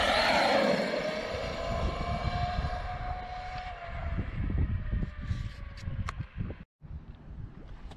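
Kraton 8S RC car with its EDF jet fans unplugged, a high motor whine that falls steadily in pitch as the car pulls away, blurred by wind noise and ending in scattered clatter.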